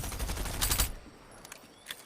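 Submachine-gun fire from a battle royale game during a competitive duo cup semi-final: a dense, rapid burst of shots up front, then a few faint, scattered pops trailing off.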